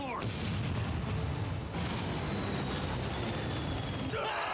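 Dense gunfire and explosions from the video game Bulletstorm form a continuous loud barrage of booms and shots.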